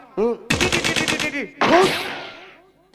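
A voice imitates a burst of rapid gunfire during a Radha Krishna nacha folk-theatre performance, with a quick rattling volley followed by a louder, rougher blast that fades out, all close and loud.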